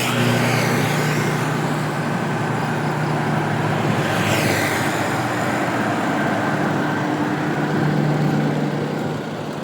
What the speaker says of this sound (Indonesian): Ini mesinnya masih bunyi.